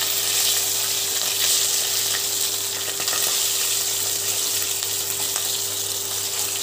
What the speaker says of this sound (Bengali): যাতে করে মাথার ভেতর অবধি ঠিকঠাকভাবে ভাজা হয়ে যায়।